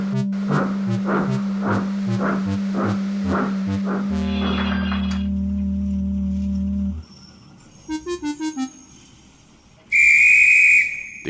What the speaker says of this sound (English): The guard soon blew his whistle and waved his flag.